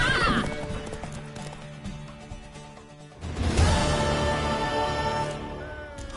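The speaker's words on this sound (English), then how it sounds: "Worthy of the best horse. The mare is yours." A horse's hooves clip-clop and a mare whinnies in The Witcher 3 video game, set against game music, with a louder burst of hoofbeats and movement in the second half.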